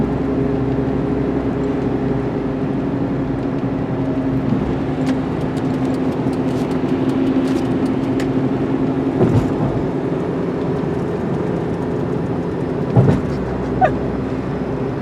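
A car drives along with a steady low engine and road drone heard from inside the cabin, broken by faint clicks and a couple of short knocks near the end.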